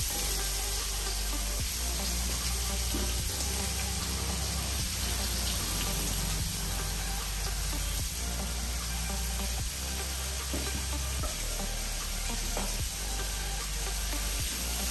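Finely chopped onion sizzles steadily in a hot pan for a South Indian veg kurma, a dense continuous frying hiss with faint stirring, close and fairly loud.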